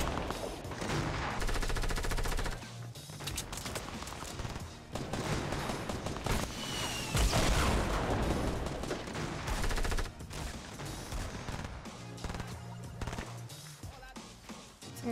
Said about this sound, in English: Some guy from the north is shooting in too.